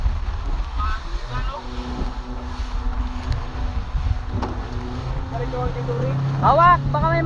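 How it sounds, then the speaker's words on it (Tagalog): Strong typhoon wind roars steadily across a boat at sea, with water and hull noise beneath it and excited voices crying out over the gusts. "Ah, grabe lang sa hangin."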